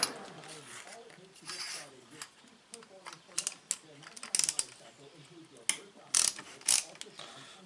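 A hand ratchet clicks in quick bursts while loosening bolts on a Stihl BG 55 leaf blower, close and crisp, with sharper clacks as bolts break free and someone talking over the work.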